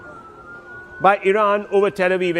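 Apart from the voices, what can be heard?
air raid sirens sounding across Tel Aviv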